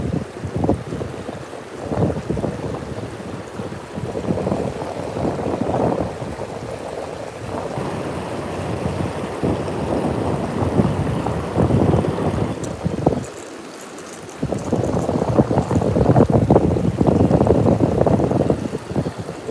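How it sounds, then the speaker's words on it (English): Strong wind buffets a microphone outdoors beside a big lake while fishing, a loud roaring rumble in sustained gusts with a brief lull partway through, no voices. "There's that wind. There's that dang wind."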